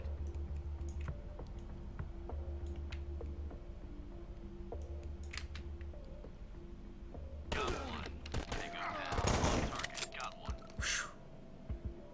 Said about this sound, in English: Shotgun down the hallway.